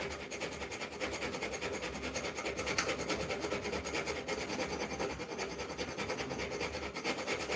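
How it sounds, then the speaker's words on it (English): A knife blade being filed in a workshop, giving a continuous, fairly quiet rasping scrape with rapid repeated strokes, steady throughout and without talk. "we're almost done filing this section here"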